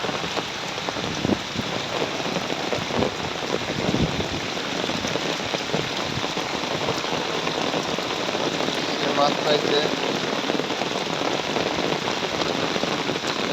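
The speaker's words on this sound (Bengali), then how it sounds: "দেখেন কতটুকু বৃষ্টি হইতেছে, অনেক জোরে বৃষ্টি হইতেছে" Heavy rain falls outdoors on a rainy day of fishing, a loud, continuous hiss of drops hitting surfaces, with a brief spoken voice over it.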